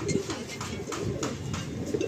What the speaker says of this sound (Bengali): এটা আন্ধ্রা ঘরের পায়রা